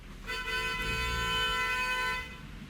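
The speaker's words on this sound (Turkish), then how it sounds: "şu korna seslerini bizim Türkiye'de neden çok kornaya basılıyor ben bir türlü çözemedim" A car horn blares in one long continuous honk lasting about two seconds, loud and steady over low traffic rumble.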